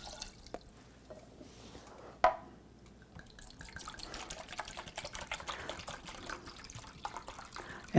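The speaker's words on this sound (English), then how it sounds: "I'm going to add my cup of water" Water poured from a cup onto cooked figs in a kitchen pot, a soft continuous trickle and splash with a sharper spill near the start, fairly quiet and close.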